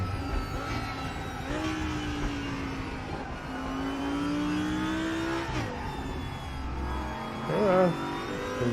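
TCR and GT4 race cars accelerating in the RaceRoom racing game on TT Circuit Assen, engines revving and climbing in pitch with gear shifts, a steady loud motor drone throughout with a brief surge near the end.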